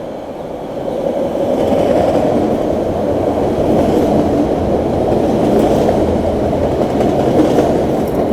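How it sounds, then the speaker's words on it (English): A subway train rumbles past steadily, a loud sustained roar with faint rhythmic clatter of wheels, building up in the first second then holding. "Well, here comes a train, not our train"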